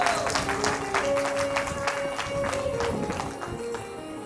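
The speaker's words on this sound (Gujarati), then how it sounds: "એકવાર વધારો જોરદાર તાળી." Audience applause at a Bhagwat katha gathering, a steady crowd clapping that fills the room for several seconds at an even level, with faint tonal sounds from music or a voice running beneath.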